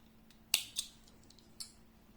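Scissors cutting short crochet yarn: a few sharp, close metallic snips, one clear cut followed by two smaller clicks, in an otherwise quiet room.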